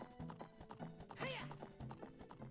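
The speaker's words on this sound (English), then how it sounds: "You got a horse." Horse hooves clip-clop in the Ocarina of Time video game, a quick, even trot of crisp hoofbeats with a brief whinny partway through, fairly quiet overall.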